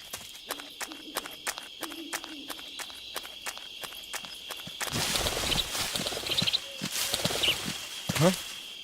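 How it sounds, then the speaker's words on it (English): Footsteps of a guard approaching in Metal Gear Solid 3, sounding as a regular series of crisp, evenly spaced steps over quiet jungle ambience with insects, followed by a louder, busier stretch of rustling movement. "Hear those footsteps?"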